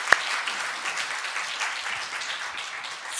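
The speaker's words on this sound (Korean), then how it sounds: "우리 박수로 한번 격려하겠습니다." Applause from a church congregation at a Sunday service: steady, moderately loud clapping throughout, with one sharp near clap at the start.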